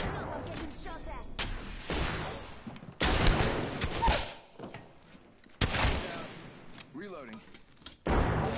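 Video game gunfire bursts loud and close in several heavy volleys separated by brief lulls, with a voice talking over the shooting.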